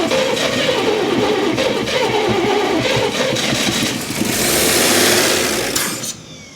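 A rebuilt inline six engine in a 1948 Chevy revs and races loudly close by, holding a high rising whine before it drops off abruptly at the end.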